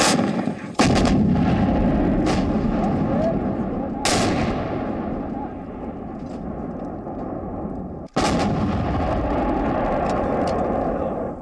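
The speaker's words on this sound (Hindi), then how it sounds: "बोफोर्स तोप के ये धमाके आज से 22 साल पहले कारगिल युद्ध की याद ताजा करते हैं।" Bofors artillery guns fire in Kargil war footage, several booming blasts at uneven intervals, each followed by a long rolling echo, loud and close, with faint voices in the background.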